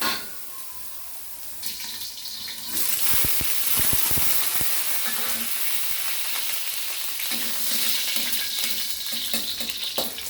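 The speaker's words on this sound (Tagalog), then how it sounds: "Igisa natin siya sa kanyang sariling mantika." Pork fat sizzling in a pan as onions and garlic are sautéed in it for pinakbet; steady loud frying hiss that surges and crackles, with stirring clatter and brief knocks, no talk.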